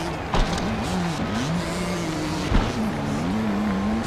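Road race motorcycle engines rev and drone at close range, their pitch rising and falling, with two short sharp knocks along the way. Nobody speaks over the sound.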